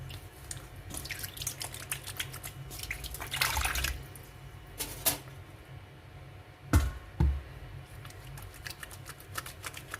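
Water runs and drips into a basin while homemade aloe vera shampoo is being tested, with steady trickling, a few louder splashes and drips, and no voices.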